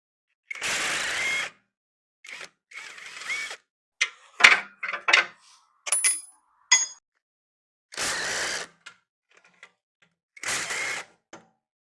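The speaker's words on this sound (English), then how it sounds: "Now that it's broke loose, I'm going to use the impact." Impact wrench driving out exhaust header bolts on a 1994-97 Honda Accord, heard as several loud close whirring bursts of a second or so each, separated by shorter mechanical clatters and quiet gaps.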